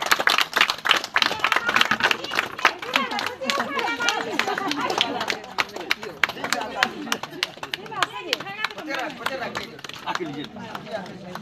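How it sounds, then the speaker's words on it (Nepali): Clapping from an audience at a farewell event honoring two artists, busy irregular hand claps mixed with crowd chatter and voices throughout. "ताली"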